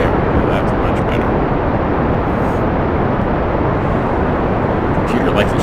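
A rocket launch in Kerbal Space Program with engines throttled up: a dense, steady broadband roar, loud and unbroken from start to finish, like a powerful engine running at full thrust.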